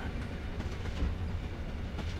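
A train rolls steadily along the tracks with a continuous low rumble and faint rhythmic clatter, close and even throughout, with no voices.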